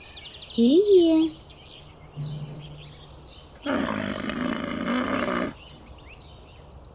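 After a short tonal call, a single loud, throaty camel roar rumbles on for nearly two seconds, then fades to faint chirps.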